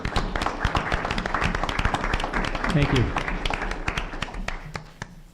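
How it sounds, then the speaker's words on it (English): Applause from an audience at a live community event: a dense, steady patter of clapping lasting several seconds, with people talking over it and a brief thanks spoken. "let's give him a round of applause"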